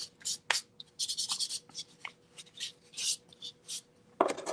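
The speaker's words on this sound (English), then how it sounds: "I'm just going to wipe it off and make sure that I don't have any sawdust here" A hand rubbing and wiping sawdust off a wooden surface, close up, in quick repeated swipes with short pauses between them.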